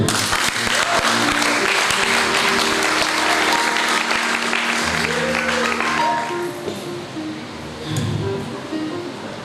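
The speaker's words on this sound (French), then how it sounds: "Est-ce qu'on peut l'applaudir?" Church congregation applauding at a baptism service: loud, dense clapping sustained for about six seconds, then thinning out, with a brief swell near the end.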